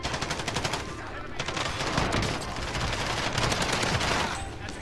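Rapid automatic gunfire in Call of Duty: Warzone's Juggernaut Royale mode, loud bursts of machine-gun fire chattering almost continuously with brief gaps, close and dense throughout.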